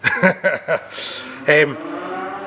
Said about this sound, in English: You'll hear the odd moo and coo coming for them.